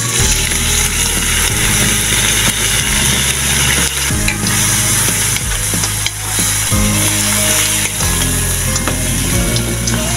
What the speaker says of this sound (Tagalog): Igisa natin ito hanggang sa medyo matusta.